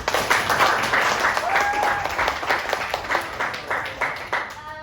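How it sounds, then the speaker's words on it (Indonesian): Classroom applause and clapping from students during a teaching simulation, a steady burst of many hands with some voices mixed in, fairly loud and continuous throughout. "Sebelumnya tepuk tangan untuk bagi kita semua."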